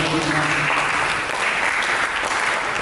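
A church congregation gives steady, full applause, a thick wash of many hands clapping at a constant loud level, with voices faintly mixed in.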